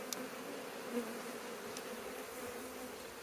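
Honey bees hum steadily on a hive frame during a spring rapeseed flow, a close, continuous drone of many wings with brief louder passes.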